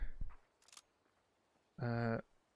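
Mosin rifle being loaded in Hot Dogs, Horseshoes and Hand Grenades: a few faint clicks and a brief metallic rattle, then one louder sustained mechanical scrape of cartridges sliding into the action, with a short voice at the start.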